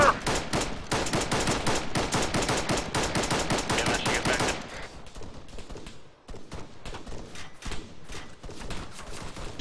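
Gunfire in a military video game: dense, rapid automatic bursts fill the first half, then thin out into sparser, scattered shots at a lower level, with no voices.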